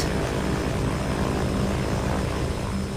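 A propeller airplane drones in a steady, loud, continuous engine roar with no breaks and no talk.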